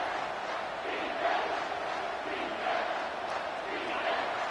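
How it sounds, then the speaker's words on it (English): A stadium crowd at a football game roars steadily on third down, a dense, continuous wall of cheering that holds at a high level throughout. "Third down, and this crowd is tearing the lid off this place."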